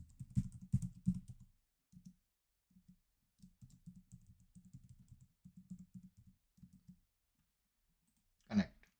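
Fingers type a username and password on a computer keyboard, giving bursts of quick close clicks with short pauses between them and a sharper keystroke near the end.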